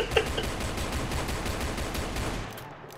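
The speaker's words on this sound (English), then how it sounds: "now we go downstairs and let's just shoot at them." Rapid bursts of gunfire from the Roblox game Brookhaven, a dense, steady crackle of repeated shots lasting a few seconds at moderate loudness and fading toward the end, with no talking.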